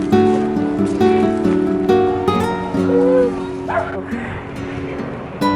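Dogs in Mexico bark and yip repeatedly, loud and close, with high yelping whines in between and voices talking underneath.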